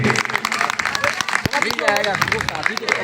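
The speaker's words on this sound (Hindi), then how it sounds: "एक बार जोरदार तालियों से आप सभी लोग खड़े होकर स्वागत वंदन अभिनंदन करेंगे" An audience at a charity event applauds, with steady clapping throughout as someone speaks loudly over it.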